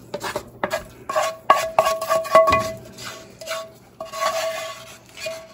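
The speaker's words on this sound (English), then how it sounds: "Now I close the skillet." A skillet being closed in a home kitchen during gumbo cooking, with metallic clanks and clatters of pot and utensil knocks in several bursts, fairly near, followed by faint scraping and stirring.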